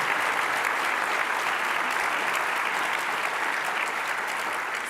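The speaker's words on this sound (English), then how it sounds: "So one more round of applause for our volunteers." A conference hall crowd gives a sustained round of applause for volunteers, a dense even wash of clapping that stays loud and steady from start to finish.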